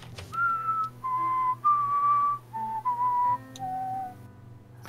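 A person whistles a slow tune of long, held notes with short gaps between phrases, near and clear over a low steady hum, in a prison cell setting.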